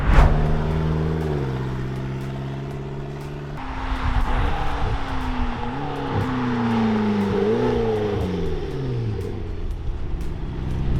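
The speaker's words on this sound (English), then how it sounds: "It's going through the gears, first, second, third, fourth." A McLaren 650S with an automatic transmission drives and shifts up through the gears, its engine tone rising, dropping at each change and climbing again, heard from inside the car with steady road noise.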